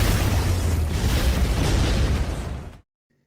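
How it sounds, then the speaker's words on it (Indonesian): A spiritual explosion from a thunder-sword strike roars as a loud, dense blast of noise that holds for nearly three seconds and then cuts off abruptly into silence. "hanya dengan 1 tebasan saja membuat ledakan spiritual pun langsung terjadi"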